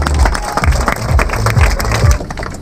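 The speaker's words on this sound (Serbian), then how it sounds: "Na početku želim jednim velikim aplauzom još jedan put da odamo počast legendarnom gospodinu Panteliću." A crowd at a youth football tournament applauds in tribute to Dragan Pantelić, steady, loud clapping from many hands that holds for a couple of seconds.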